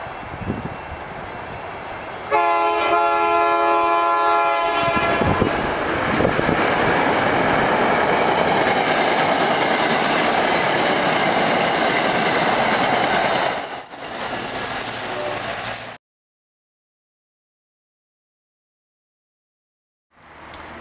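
A train rolls along the MBTA rail line beside Harwood Avenue near a railroad tie work site, a loud steady rumble with a brief horn-like tonal stretch early on, then easing off before the sound cuts out to silence.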